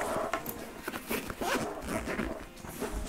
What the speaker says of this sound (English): on the back here, we do have another outer zip